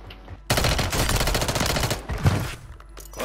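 Video game gunfire from snipers at a prison: a dense, loud, continuous roar of rapid shots that starts abruptly and barely lets up.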